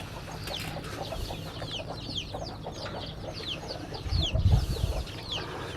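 A flock of chickens in a coop, hens with chicks, clucks and chirps continuously in a steady chorus, with a soft low thump partway through.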